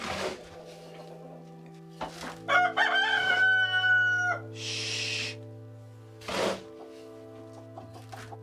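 Backyard chickens cluck in short bursts and a rooster crows once, fairly close, with a steady mechanical hum and a brief hiss underneath.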